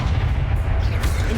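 In the video game Hogwarts Legacy, a Confringo spell explodes as a heavy, booming rumble that fills the short moment, loud and close, with a low, thick body.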